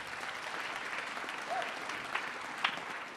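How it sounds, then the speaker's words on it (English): An audience at a storytelling showcase on a theatre stage applauds in a steady, moderately distant wash of clapping, with a couple of sharper claps standing out near the end. "Another round of applause for Catherine."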